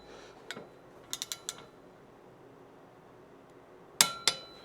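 A few separate sharp metallic clicks, spaced apart and close by in a quiet shop, from a torque wrench tightening bolts on a Can-Am Ryker build.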